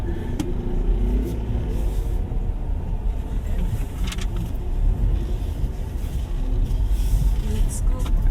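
A 2024 MG One 1.5T turbo engine in super sport mode gives a steady low rumble from inside the cabin, heard throughout with faint voices and road noise.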